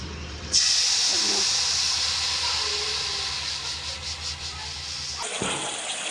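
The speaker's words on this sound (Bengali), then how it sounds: "এবার তেলের মধ্যে জিরে ফোড়ন দিয়ে দিলাম" Cumin seeds hit hot oil for tempering, setting off a sudden loud sizzle that hisses steadily and slowly softens before cutting out near the end.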